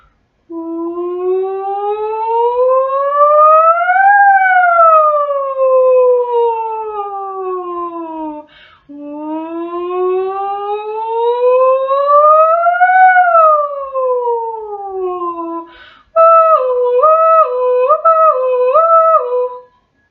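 A voice imitates a police siren as a head-voice singing exercise, sliding smoothly up and down in long swooping wails twice, then switching to a quick alternating two-tone warble; loud and close, with no other sound.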